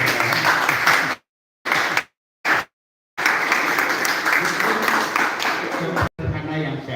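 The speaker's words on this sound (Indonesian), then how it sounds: "Kita tepuk tangan dulu." A meeting audience breaks into applause for a songwriter, dense clapping cut by short silent gaps, then resuming strongly and fading out at the end.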